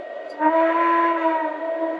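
A Lionel Baltimore & Ohio model train engine sounds a steady, tonal steam-style whistle for well over a second, loud and close with no talk over it.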